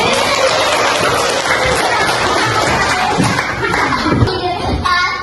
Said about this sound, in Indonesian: Tepuk tangan dong untuk kawannya.